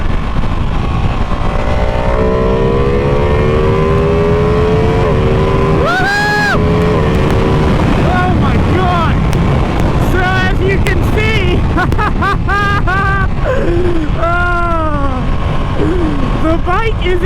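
A 2020 Ducati Panigale V2 motorcycle accelerates hard, its engine note climbing through rising pitch sweeps with quick gear changes, loud and close against steady wind rush, with a rider's voice briefly heard.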